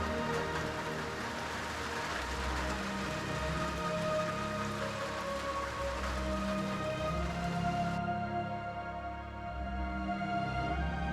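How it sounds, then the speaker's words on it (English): Rain falls steadily at an old abandoned house under renovation. It makes a constant dense patter that stays even throughout, with no one speaking. "Meanwhile, rain returned,"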